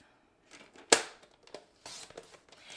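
A paper trimmer slicing cardstock, one sharp close cutting snap followed by lighter sliding and rustling of the paper, quiet otherwise.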